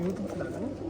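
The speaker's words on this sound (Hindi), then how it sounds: "ये कौन सा कबूतर है सऊद भाई? ये तांबड़ा कबूतर है" Soft cooing from a Tambada pigeon, a Rampuri fancy breed, a brief low rolling coo close by, with a voice speaking over part of it.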